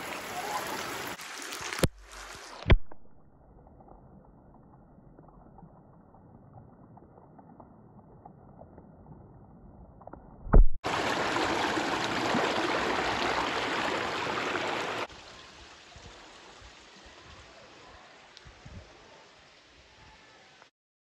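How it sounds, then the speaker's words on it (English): Water pours down like a natural shower at the Blue Hole in Tennessee, a bright rushing spray heard up close for several seconds between quieter stretches of softer flowing water. "It's like a natural shower. This is so cool."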